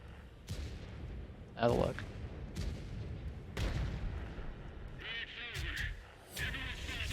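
Tank cannons fire in a 5v5 competitive tank video game, with repeated sharp booms and blasts spaced a second or two apart under excited commentary.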